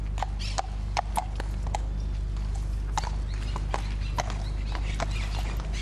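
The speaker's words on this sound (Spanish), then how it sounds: "Regimiento de Granaderos a Caballo, General San Martín. Por cuartas, a la izquierda. ¡Marchen!" Hooves of the horses of Argentina's Regimiento de Granaderos a Caballo General San Martín clip-clop on hard ground as the mounted grenadiers march, an irregular run of sharp, moderately distant hoofbeats over a low steady hum.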